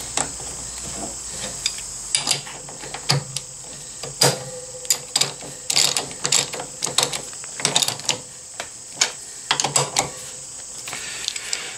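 Brake caliper bolts being tightened on an Africa Twin motorcycle, a series of close, sharp metallic ratchet clicks and clacks in irregular bursts, with short pauses and no talking.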